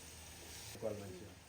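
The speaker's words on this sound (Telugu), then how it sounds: "కట్ చేసుకున్న ఆనియన్స్ మంచిగా చాక్లెట్ కలర్ వచ్చే వరకు వేయించుకోవాలి" Sliced onions frying in oil in a pan until deep brown, a soft steady sizzle with a brief louder burst of stirring partway through, heard close and fairly quiet.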